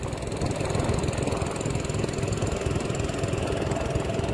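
A sand barge chugs along a flooded river, its engine a steady, fairly loud low drone with an even mechanical throb that holds constant throughout, with no voices.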